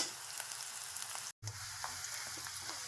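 Onion and garlic frying in a pan for chole masala, with a close, continuous sizzle and occasional light stirring and a brief cut of silence midway.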